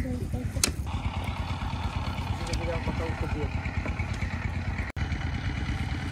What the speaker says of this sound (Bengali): আমরা এখন নৌকা দিয়ে এই হাওরের মধ্যে ঘুরে বেড়াচ্ছি, আমি আর ক্যারি।